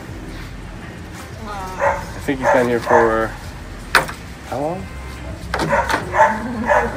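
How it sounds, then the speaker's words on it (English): Dogs bark and yip repeatedly in a crowded county animal shelter, short overlapping barks and whimpers echoing around someone talking nearby, with a sharp door-like bang midway. "There's so many dogs here."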